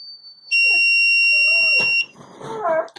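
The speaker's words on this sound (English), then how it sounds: "the buzzer comes back on again." A Raspberry Pi laser tripwire's electronic buzzer sounds a shrill, steady high-pitched tone for about a second and a half, then cuts off, leaving faint rustling and clicks.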